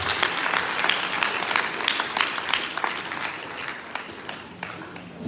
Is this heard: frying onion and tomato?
no